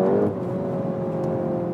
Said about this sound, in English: in the Nürburgring mode we also have a special exhaust note, of course